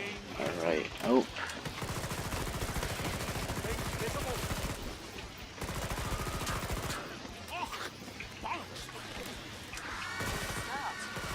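Rapid gunfire from the video game Killing Floor 2 rattles in dense bursts throughout, with sharp crashes and impacts mixed in and someone talking over the shooting.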